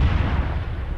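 A close, heavy explosion in Arma 3 booms out loudly on its own, a dense low rumble that holds steady for about a second and fades a little by the end.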